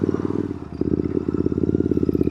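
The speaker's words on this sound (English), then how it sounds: "Boy, those pipes sound good," A custom Royal Enfield Interceptor 650 with a belt drive kit, its exhaust pipes throbbing in a steady, rapid low pulse while riding, close and continuous with slight dips in loudness.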